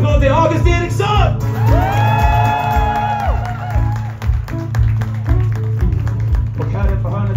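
A loud crowd cheers and whoops with applause mixed in, continuous over a steady low musical hum, at a live concert at Södra Teatern, Stockholm.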